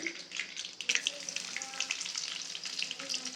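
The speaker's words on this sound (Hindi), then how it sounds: "अब इसमें डाल देते हैं कुटा हुआ लहसुन।" Crushed garlic dropped into hot oil in a mango kadhi, giving a steady close sizzle and crackle with bursts of frying and some stirring, fairly soft with no talking.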